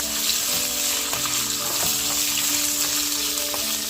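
Ginger and garlic fry in a pan for a chicken curry, giving a steady, loud, close sizzle throughout with a few soft clinks and no talking.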